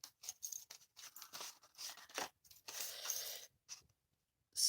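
Scissors cut through paper for a kerchief card kit in short snipping strokes and brief crisp bursts, with small pauses between cuts, close and fairly quiet.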